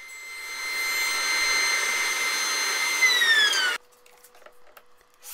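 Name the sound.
jointer edge jointing wooden boards for dining table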